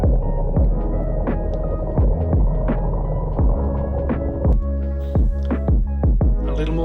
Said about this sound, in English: A little more vacuuming,